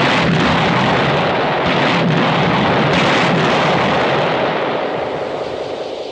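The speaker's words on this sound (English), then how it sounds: "Right, fire the demolition, Corporal Ellery." Demolition charges blow up a bridge in a military engineering drill, a loud rolling explosion whose roar and rumble go on for several seconds and slowly fade.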